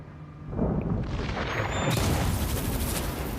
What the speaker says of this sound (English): And I almost did get struck by lightning.